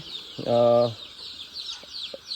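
A single loud, harmonic squawk from a native desi chicken rings out close by on a farm, followed by a couple of faint clucks against a quiet background.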